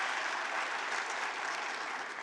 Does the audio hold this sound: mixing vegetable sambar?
no